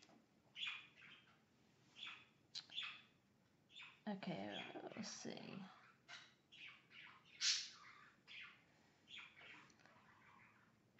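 Two pet birds chirp and tweet indoors in short, repeated bursts throughout, fairly close, with a person speaking briefly in the middle.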